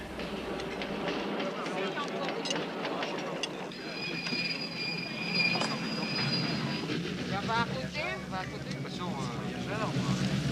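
A descending train on a mountain railway rolls past with rumbling wheels and metallic squeals and clanks, while people talk in the background.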